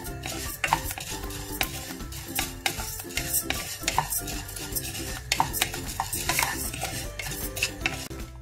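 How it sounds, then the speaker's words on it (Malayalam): Matta rice roasting dry in a pan is stirred nonstop with a metal spoon, giving rhythmic close scraping and clinking against the pan with a faint sizzle underneath. "അപ്പോൾ അതുവരെ നമുക്കൊന്ന് നിർത്താതെ ഇളക്കി കൊടുക്കണം."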